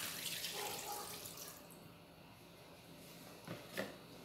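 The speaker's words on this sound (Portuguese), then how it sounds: "agora eu vou colocar 750 ml de etanol" Ethanol, 750 ml, poured into a liquid coconut soap mixture, a faint trickle and splash of liquid early on, followed by quieter stirring and a couple of brief sloshes.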